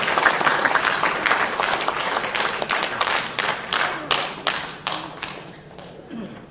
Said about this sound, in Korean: 힘찬 박수로 말씀을 청하겠습니다